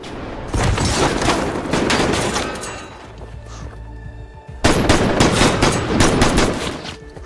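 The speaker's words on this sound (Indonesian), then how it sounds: "Aksi baku tembak itu membuat pergelangan tangan Nick tertembak" A movie shootout between former elite soldiers turned bank robbers brings loud, rapid bursts of gunfire with heavy booms, a short quieter lull with a low rumble, then a fresh barrage.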